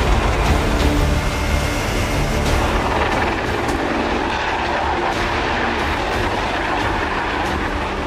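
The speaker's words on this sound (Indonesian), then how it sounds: "Satuan Manuver Udara melaksanakan bantuan penembakan yang dilakukan oleh helikopter-helikopter tempur canggih milik TNI AD dan US Army" Advanced combat helicopters of the Indonesian Army (TNI AD) and US Army fly fire-support runs during the Super Garuda Shield tank exercise, producing a loud, continuous, rumbling roar with no speech.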